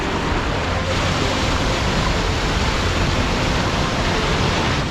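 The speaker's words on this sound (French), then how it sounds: "Là il y a un torrent qui passe en bas." Steady, dense rushing water of a mountain torrent flowing below a trail, a continuous broadband roar filling the whole clip with no break and no voices.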